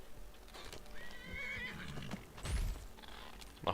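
A horse in the video game Skyrim whinnies in a rising, wavering neigh, with hooves clip-clopping around it, heard alone at a moderate level without talk.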